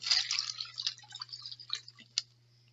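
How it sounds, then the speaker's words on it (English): Water trickles and drips from a cup into a plastic bag, a quiet run of small splashes and patters that thins out into a few last drops, with a low steady hum underneath. "if I pour it into this bag carefully"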